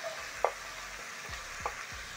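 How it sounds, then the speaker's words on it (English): Minced meat and chopped onions fry in a pan with a soft, constant sizzle and a few faint scraping stirs. "Toss everything together and cook the onions for around a minute."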